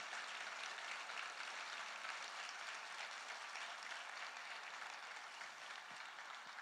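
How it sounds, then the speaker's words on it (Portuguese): A church congregation applauds during a service, a sustained wash of clapping from many hands, faint and distant but continuous, without any voices over it. "Será que você pode adorar a Jesus por um minuto, dando o melhor aplauso para Ele?"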